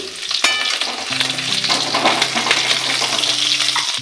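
Paneer pieces frying in oil in a kadai, a loud, steady sizzle with scraping stir noises throughout.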